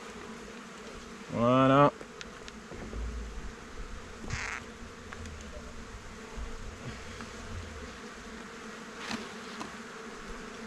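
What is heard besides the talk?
honey bees returning to the hive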